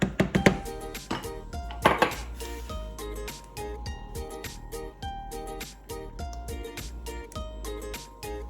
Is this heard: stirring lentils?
yes